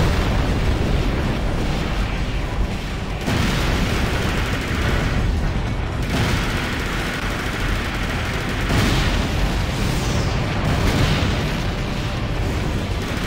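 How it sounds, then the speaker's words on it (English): Continuous heavy game explosions and booming blasts roll on without pause, dense and loud, with no one speaking. "these explosions are so huge"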